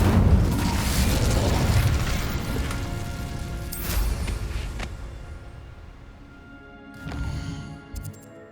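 Incendio fire spell cast in Hogwarts Legacy, a loud roaring burst of flame and crash that fades over several seconds, followed by a smaller flare and a few faint pops.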